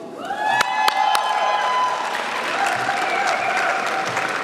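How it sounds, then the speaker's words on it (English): Graduates at a fall commencement ceremony clap for themselves, a burst of loud, dense applause with whoops and cheering mixed in, sustained and steady across the moment. "And students, give yourselves a round of applause too"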